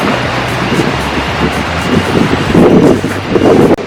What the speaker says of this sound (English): So windy today in London.